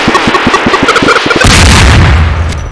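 Rapid, loud gunshots in Garry's Mod ring out in a quick regular string, then give way to a heavy booming rumble from the game.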